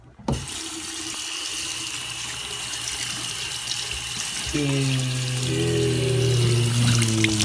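Tap water runs steadily into a sink while a hair crimper is washed after crimping food, a continuous loud splashing rush whose pitch shifts partway through as the flow fills or hits something, with no voices.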